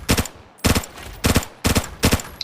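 M16 rifle gunfire in the shooter game Arena Breakout: four short, loud bursts of rapid shots come at even intervals, each separated by a brief gap.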